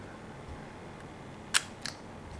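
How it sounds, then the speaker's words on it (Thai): A half-frame film camera shutter fires in a single sharp click, followed by a softer double click moments later, close and crisp against faint room hiss. "ให้ฟังเสียงชัตเตอร์"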